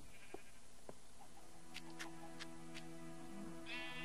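A Minecraft sheep gives a few faint, drawn-out bleats in the video game, mixed with soft clicks and other quiet game sounds.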